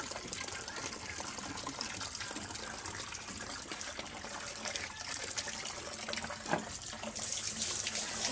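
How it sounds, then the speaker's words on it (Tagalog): Water pouring steadily for pigs after their feeding, a continuous gushing splash that runs throughout and swells slightly near the end. "nilagyan na ng tubig mga kaboy"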